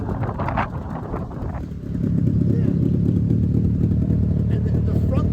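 A Mitsubishi Minicab kei truck engine turns over and settles into a steady, loud low rumble close by, with voices talking over it and some wind buffeting.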